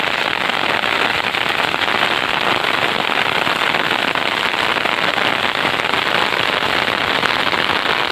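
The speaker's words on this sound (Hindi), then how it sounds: "आई रे बारिश अब तो आई रे" Heavy rain pours down steadily in a dense, unbroken hiss. It is loud and close, with no voices.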